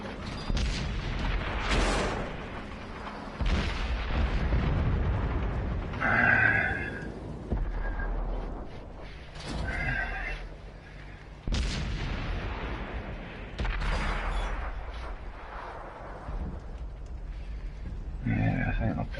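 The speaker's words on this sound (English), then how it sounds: "Oh, the artillery on it." Booming artillery fire in a PS4 video game, a series of deep heavy blasts and rumbles spread across the scene, heard under and between a man's speech.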